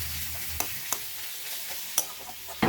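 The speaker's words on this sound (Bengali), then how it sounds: "এবার দিয়ে দেব পরিমাণ মতো নুন, হলুদ গুঁড়ো আর লাল লঙ্কার গুঁড়ো দিয়ে সবকিছু একসাথে ভালো করে মিশিয়ে নেব" Catla fish oil is stirred with salt, turmeric and red chili powder in a wok, giving a soft sizzle with a few sharp scraping clicks from the utensil at irregular moments. It is close and heard alone.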